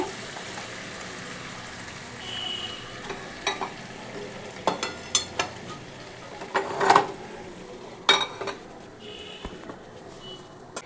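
Mutton and papaya korma is scraped and poured into a pressure cooker, making wet sloshing and clattering bursts of metal utensils against the pot, close by and fairly loud, with no talk.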